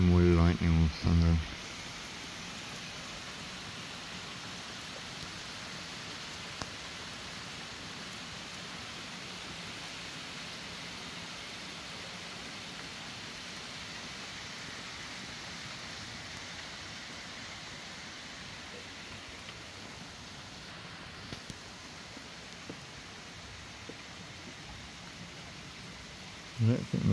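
Steady rain at night makes an even, unbroken wash of soft noise that holds for a long stretch. Brief voices come in at the start and the end.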